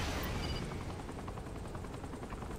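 A guided weapon fires in the game Saints Row: The Third: a dense, loud blast that trails into a sustained roaring rumble of gunfire and explosions, with no talking.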